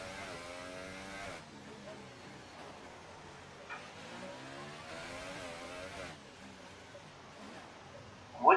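An F1 car on its out lap in the F1 2018 racing game at Monaco, its engine droning and shifting pitch through gear changes, with a voice talking over it throughout.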